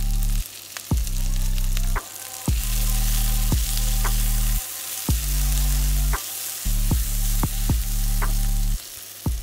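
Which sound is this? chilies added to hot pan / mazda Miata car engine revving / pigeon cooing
chilies added to hot pan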